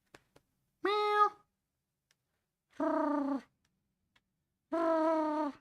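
A cat meows three times, close by and fairly quiet. The drawn-out tonal calls are separated by pauses of about two seconds, with near silence between them.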